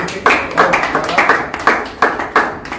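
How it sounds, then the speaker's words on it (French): A small indoor crowd at an entrepreneurs' training and certificate ceremony claps in a steady rhythmic beat, about two claps per second, loud and close, with a few scattered taps. "Voilà, on peut acclamer."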